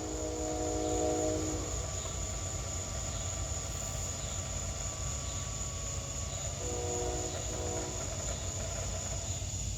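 A train rolls through Abbeville, a steady low rumble and hiss of rail cars passing nearby, with sustained tonal squeals and whine rising in the first few seconds and again near the end; no voices.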